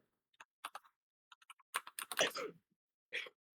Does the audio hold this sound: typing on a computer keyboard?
yes